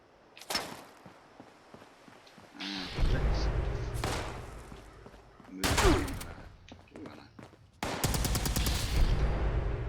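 Enclave plasma weapons fire in the video game Fallout 76, with several loud bursts of rapid crackling shots and heavy low booms separated by short pauses, and a spoken voice in places.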